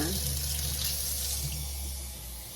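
Warm water runs steadily with a continuous hiss and splash, fairly close and unbroken, no voices.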